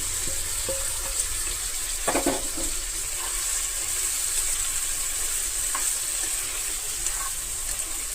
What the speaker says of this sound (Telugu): ఇప్పుడు ఇంతవరకు వేగిన తర్వాత మనం ఆల్రెడీ ఫ్రై చేసుకున్న రొయ్యలు వేసాము.